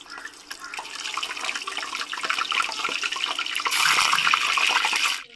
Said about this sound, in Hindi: तो व्यूअर्स, ऑयल हमारा अच्छे से गर्म हो चुका है, तो चलिए हम कोफ्ते को फ्राई करते हैं